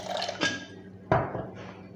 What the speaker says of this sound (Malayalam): അപ്പം കുറച്ചും കൂടെ നമുക്ക് വെള്ളം ഒഴിക്കാം.